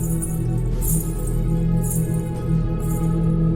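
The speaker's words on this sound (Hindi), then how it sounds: "ये पायल की आवाज थी, भारी चांदी की पायल" Heavy silver anklet bells jingle in bright, shimmering bursts about once a second, set over a steady low droning background with no talking.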